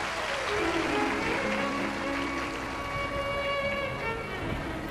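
A crowd at a Shiv Mahapuran religious discourse claps loudly and steadily in welcome for a revered swami, a dense, continuous wash of applause with a few faint tones carrying through it.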